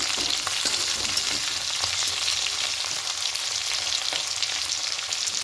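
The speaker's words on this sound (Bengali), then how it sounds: "সিমগুলো ভাজা হয়ে এসেছে ঠিক এভাবে করে ভাজতে হবে একটু লাল করে" Flat beans frying in a pan for a bean paturi dish, a steady close crackling sizzle with faint stirring scrapes, continuous and fairly loud, with no talking.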